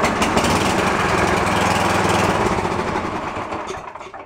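A free, broken snowblower engine that had been sitting out in the weather runs loud and close with a steady, rough small-engine roar. It holds for about three seconds, then sputters and fades as it dies.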